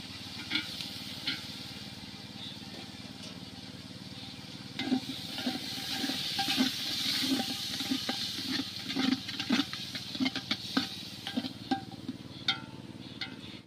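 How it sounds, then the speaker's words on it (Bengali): Spice paste with turmeric, chilli powder, a splash of water and chopped tomato frying in a pot, a soft continuous sizzle broken by repeated scraping and clinking strokes of stirring, growing busier toward the end. "মশলাটা ভালোভাবে ভাজা হয়ে গেছে। মশলা থেকে দেখুন তেল ছেড়ে গেছে।"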